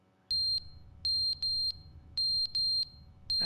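Smoke alarm with a dead battery sounding in The Stanley Parable, loud shrill electronic beeps in uneven bursts of one or two, standing alone over a quiet low hum.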